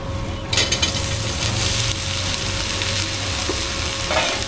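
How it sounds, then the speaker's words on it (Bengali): Okra frying in a pan as it is stirred, a loud close sizzle that swells when the okra goes in, with scraping strokes of a spatula and faint utensil knocks throughout. "এর ভিতরে আমি এই ভিন্ডিগুলো দিয়ে দিব"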